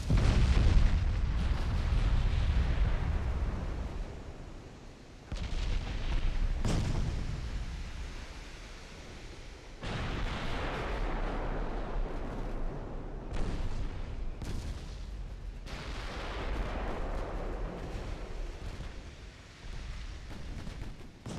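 Heavy 15-inch naval guns firing in the Ultimate Admiral Dreadnoughts battle game, a series of deep, loud booms and rumbling salvos rolling on in repeated bursts with long reverberant tails.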